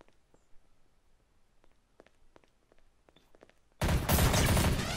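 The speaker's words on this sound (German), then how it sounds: "Er schießt auf mich." Gunfire in the video game Trouble in Terrorist Town: faint scattered clicks and taps give way to a sudden, loud, sustained burst of shooting that runs to the end.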